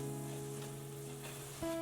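Water at a rolling boil in a pot with softened tomatoes bubbles and hisses steadily as mixed flour dumpling batter goes in. A brief clink and tone rise near the end, with no talking.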